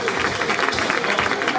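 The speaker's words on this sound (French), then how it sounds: "Je vous demande de faire un tonnerre d'applaudissements pour accueillir notre témoin exceptionnel du jour, le père Timothée" An audience applauds to welcome Father Timothée, an exorcist guest at an evening event: loud, dense clapping with cheering voices mixed in, close and continuous across the short stretch.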